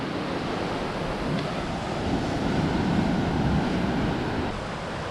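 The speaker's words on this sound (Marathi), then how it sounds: "खवळलेला समुद्र आहे" Rough sea surf breaks along a Konkan beach near Sagareshwar, a broad steady roar of waves with wind buffeting the microphone, swelling slightly in the middle before easing back.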